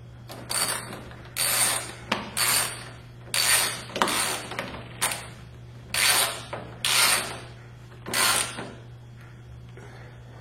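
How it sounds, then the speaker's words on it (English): A socket ratchet tightens a 10mm bolt in a series of about nine clear, close bursts of rapid pawl clicking, each lasting roughly half a second, with a steady low hum underneath and no talking. "we'll tighten it the rest of the way down with the 10mm socket"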